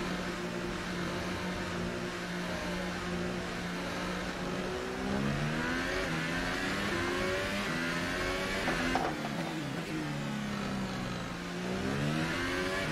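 A McLaren Formula One car's engine in the F1 2018 racing game at the Monaco Grand Prix howls through repeated rising and falling revs, a continuous high-pitched whine sweeping up and down at steady loudness with no speech.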